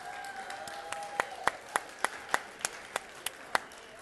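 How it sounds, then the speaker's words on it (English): A few audience members at a Christmas celebration clap for the Tuba Christmas performers, producing sparse, evenly spaced individual claps that ring out distinctly over a quiet hall background. "Let's have a round of applause for Tuba Christmas and all our performers tonight"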